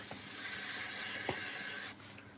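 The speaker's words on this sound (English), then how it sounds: "this is my adhesive spray that I like." A can of craft adhesive spray hisses in one continuous close burst of about two seconds, then cuts off sharply, leaving a quiet room.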